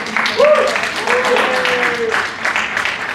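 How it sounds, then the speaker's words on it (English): Audience applause at a student leadership winter workshop, a moderate burst of clapping mixed with a speaking voice and some cheering. "Let's give her a round of applause"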